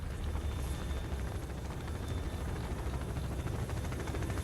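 A helicopter in the video game S.T.A.L.K.E.R.: Wind of Time hovers nearby, a steady, dense rotor rumble that holds even throughout, with no voices.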